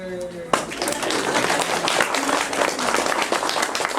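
Applause breaks out suddenly after a brief voice and continues as a steady, dense clapping from a crowd, fairly close, inside a saloon turned hotel and coffee shop.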